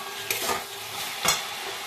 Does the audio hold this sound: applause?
no